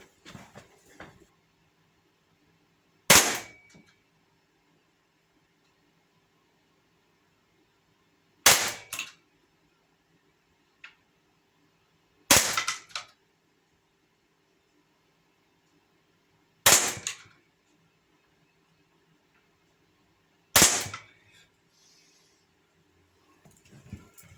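A Sig Sauer M17 air pistol fires five sharp, evenly spaced shots, each a close, crisp crack with long silent pauses between, ending in faint handling noise.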